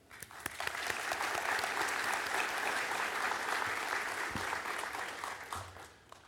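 Sustained audience applause fills a graduation ceremony hall, a dense, steady wash of clapping with a few sharper claps at the start before it tapers off near the end.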